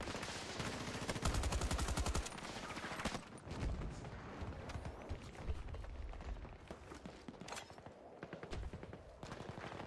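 Sustained automatic gunfire in Battlefield 2042, a long stream of rapid close shots that thins into scattered bursts and more distant firing, with a faint voice briefly underneath.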